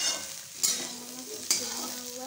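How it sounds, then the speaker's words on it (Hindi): Soya chunks fry and sizzle in hot oil in a pan, a steady close crackle with two brief louder scrapes as they are stirred, no voices. "तेल डालकर और सोयाबीन डालकर उसे भून लेंगे।"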